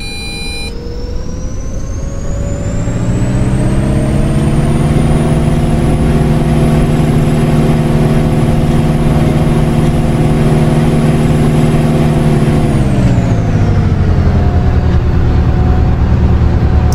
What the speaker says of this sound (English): This bus is ready to depart.